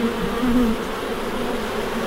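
Honey bees swarm thickly over a hive, a dense continuous drone with a slight rise in pitch partway through, close and loud with no voices.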